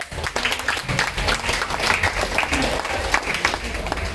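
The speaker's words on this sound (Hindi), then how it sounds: "तालियां।" Applause from a crowd at an ashram Independence Day celebration, with dense, continuous clapping that holds steady throughout.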